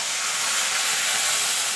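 Water splashed into a hot pan of frying cumin, whole garam masala, ginger and green chilli for moong dal gives a loud, steady hiss that holds evenly throughout without a break.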